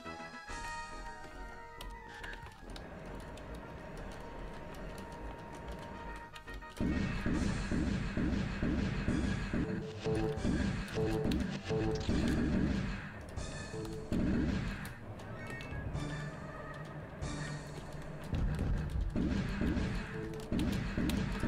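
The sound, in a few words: spaceship gunfire in the Privateer video game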